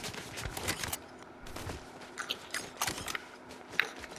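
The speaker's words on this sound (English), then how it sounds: "And also, Reaper sniper rifle." Reaper sniper rifle fire in Fortnite, heard as a series of sharp, irregular cracks and clicks spread across a few seconds over a busy game background, with no talking.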